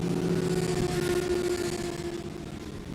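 A Lamborghini GT3 race car on the start-finish straight at Silverstone during a 24-hour endurance race, its engine a loud, steady, continuous roar throughout that eases slightly toward the end.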